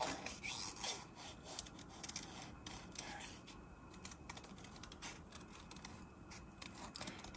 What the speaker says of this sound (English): I'm just going to kind of fussy cut them out as best as I can.